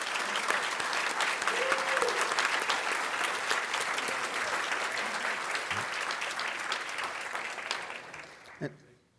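A conference audience applauds Charleston County winning the J. Mitchell Graham Memorial Award, a steady roar of many hands filling the room for about eight seconds before fading out.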